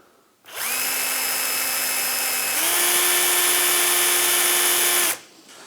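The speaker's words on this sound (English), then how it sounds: "I'm going to drill a hole in the center where I want this to go" A very fine drill held in a pin chuck bores a hole through the centre of a small workpiece for a wooden box. The whine is loud and steady, steps up slightly in pitch midway, then stops abruptly after about five seconds.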